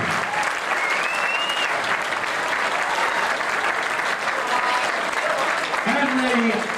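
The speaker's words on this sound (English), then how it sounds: "please give them a warm round of applause" A crowd at a 1996 hunt draw event applauds acts taking a bow, steady dense clapping that holds at full strength throughout, with faint voices and a brief cheer showing through near the end.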